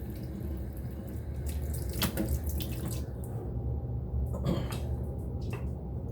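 Tap water runs steadily into a sink while a face is rinsed after shaving, a continuous splashing rush with brief louder splashes, close by and with no voices.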